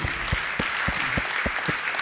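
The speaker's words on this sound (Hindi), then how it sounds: "तालियां अच्छे से बजाइए" An audience at a Jain religious question-and-answer gathering at Gunayatan, Shikharji, claps in a loose steady rhythm, with distinct individual claps standing out over a softer background of hands.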